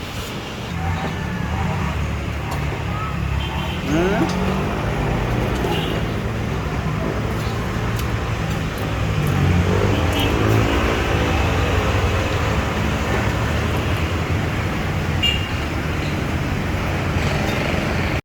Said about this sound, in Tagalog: Traffic ang mayon.